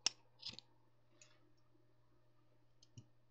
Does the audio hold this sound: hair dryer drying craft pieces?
no